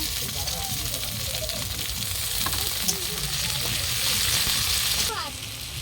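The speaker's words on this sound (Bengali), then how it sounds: "রসুন কুচি দিলাম বাটা করিনি আমরা কিছুই এটা একটু হালকা ভাজা ভাজা হবে" Chopped garlic and tomato fry in a pan for an egg curry, giving a constant close sizzle with occasional stirring noises. A person talks over the frying.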